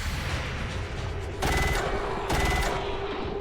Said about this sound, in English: And there's the heavy cannon.